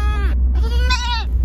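A young goat bleats from close by on a car ride, two wavering, nasal cries separated by a short gap, over a steady low road rumble.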